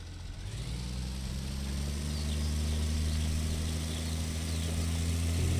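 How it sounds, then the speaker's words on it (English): A McCormick tractor engine idles steadily in the farming game Pure Farming 2018, a continuous low drone with a slight rise in pitch, heard alone without talk. "back over to our other McCormick tractor"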